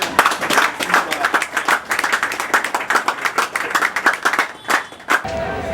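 Audience applause at an official installation ceremony for a provincial youth league office, a dense, steady clatter of many hands clapping that swells in waves, with a few louder individual claps standing out before it cuts off abruptly.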